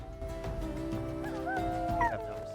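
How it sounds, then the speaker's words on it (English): A dog whimpering and yipping in short high whines over a steady background hum, fairly faint and close. "That is a dog."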